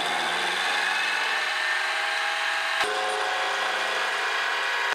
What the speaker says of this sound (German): Dann fräsen wir die Laschen gerade,